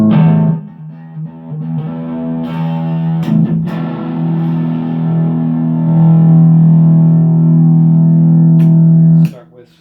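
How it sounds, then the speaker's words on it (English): A 1986 Charvel Model 4 electric guitar plays through overdrive, with sustained distorted chords and notes ringing loud and close, a few sharp picked attacks, and a long held tone that cuts off near the end. "imagine now when we throw on some overdrive, what's going to happen."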